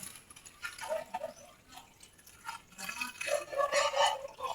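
Water poured into a pot of vegetable soup, with uneven splashing and trickling in bursts and a fuller gush near the end, close up.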